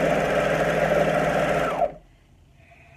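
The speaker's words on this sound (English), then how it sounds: "the first thing I'm going to do is sew my armbands, neckband, waistband, all that together" A sewing machine runs in a fast, even whir while stitching armbands, a neckband and a waistband, then stops abruptly, leaving near silence with faint background sounds.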